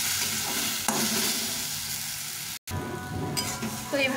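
Potato and eggplant fry in a pan, a close, steady sizzle broken by scraping stirs and one sudden brief cutout, with no speech.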